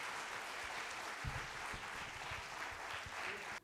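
An audience at an appreciation award event breaks into applause, a dense, even patter of many hands that keeps going for a few seconds. Then it stops abruptly.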